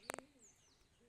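A pigeon coos faintly outdoors, a brief low call accompanied by a quick cluster of sharper chirps, all over quiet background noise.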